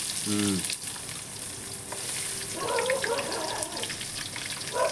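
Onions tip into hot oil along with cinnamon and cloves for a prawn thokku, giving a steady sizzling crackle with faint scraping of a spoon and a brief tonal clink early on.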